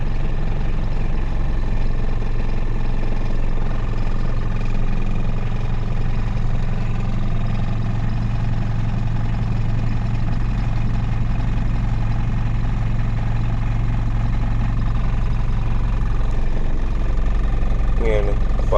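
A car engine runs at a steady idle after a battery fix, its low, even hum holding throughout while people talk over it.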